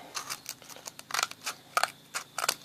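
Scissors snip through worn abrasive flaps on an angle grinder flap wheel, trimming them back: a quick series of crisp cuts, about a dozen short close snips in uneven rhythm with no talking.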